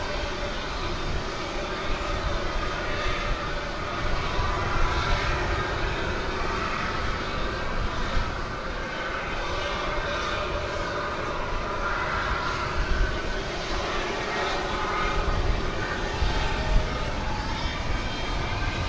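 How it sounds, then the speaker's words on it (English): A tri-jet airliner passes at DFW Airport at night with a steady, loud engine roar that holds for the whole stretch, dense and broad with no clear gaps. "It is our first tri-jet action of the night."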